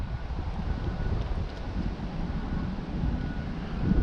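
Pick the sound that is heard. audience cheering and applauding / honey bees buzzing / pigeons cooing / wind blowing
wind blowing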